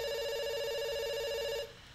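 A telephone rings in the video game Dr Langeskov with a steady, sustained electronic ring that holds for over a second and a half, then cuts off, leaving faint background noise.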